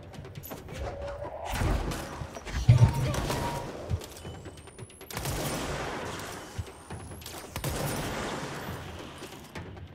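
Gunfire in the game Control, heavy thumping shots and crashing impacts in irregular bursts over a busy, rumbling background, with speech mixed in.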